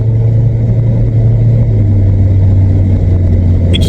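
An abandoned VW Vento's engine drones loud and close under throttle, a steady low rumble whose pitch drops slightly partway through as it shifts gear.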